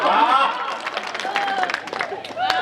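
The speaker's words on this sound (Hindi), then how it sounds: "ताली बजती है" Applause from an audience at a Hindi kavi sammelan comedy poetry recital, a dense continuous wash of clapping with voices and shouts mixed through it.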